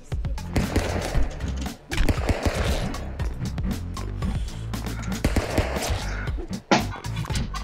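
Gunfire in the video game Stick Fight comes as rapid, crackling bursts of shots in quick succession, loud and dense, with brief pauses between volleys.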